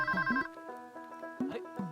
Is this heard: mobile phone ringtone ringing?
yes